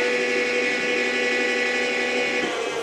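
Seat lift motor on a Rascal 600B mobility scooter lowering the seat, a steady close whirring electric hum that holds evenly from start to end with no talk.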